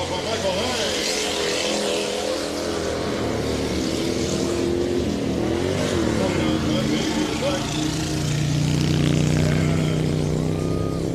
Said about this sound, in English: Listen to his bike rip by.